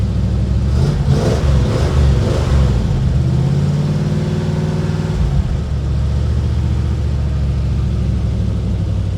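A 1936 Chevy hot rod engine runs loud and close, with a couple of throttle blips and revs early on before settling into a steady rumbling idle, no voices.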